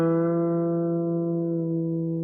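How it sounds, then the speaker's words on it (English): A single sustained electric guitar note played with the string pressed too hard into the fretboard, ringing steadily and pulled slightly out of tune as it slowly fades, heard alone. "if you press too hard, you're going to press your notes out of tune."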